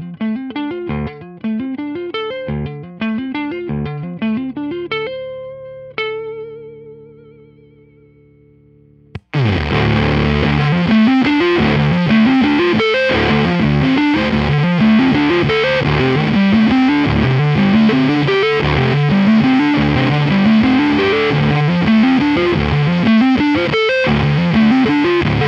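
An electric guitar first rings out a few clean notes that fade into quiet, then bursts into loud, heavily distorted riffing through a Great Destroyer fuzz pedal (2017 update), sustained and dense to the end.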